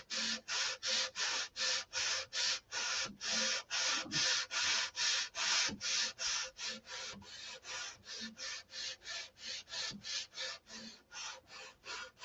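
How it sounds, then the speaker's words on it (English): Steady, rapid strokes of flap sanding rub back and forth on a surface, about two dozen even, loud passes in a continuous rhythm with no talking. "long bar it, and then we'll flap sand"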